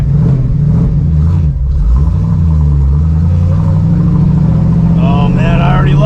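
A classic Ford Mustang Bullitt tribute with a 4-speed gearbox revs hard, its engine rumbling loud and close throughout, with a voice heard briefly near the end.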